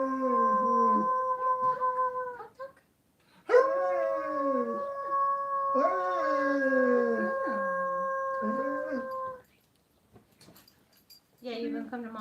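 Long, drawn-out howls rise and hold in steady tones, with a dog and human voices howling along, separated by short pauses and ending in a quieter trailing whine.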